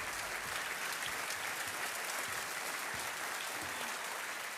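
Studio audience of a televised quiz show applauding a contestant's win, a continuous dense wash of clapping from a large crowd without a break.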